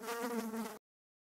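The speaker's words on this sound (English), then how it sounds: "Fly." A housefly buzzes steadily and close by, a continuous droning hum lasting under a second before cutting off abruptly into silence, with no voices.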